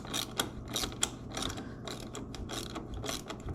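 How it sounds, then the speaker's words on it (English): Ratcheting wrench clicks close by as bolts are tightened while mounting a Helix unit on a boat, a steady run of quick metallic clicks with a few sharper ticks, no talking. "Got a 1/2 inch wrench and a 1/2 inch wrench."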